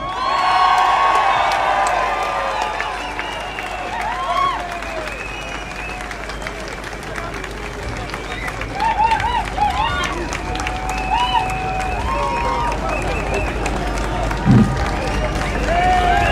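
Large audience applauding and cheering for a guest welcomed onto a stage at a free-press event, sustained clapping with whoops throughout, fairly close and steady, one louder burst near the end.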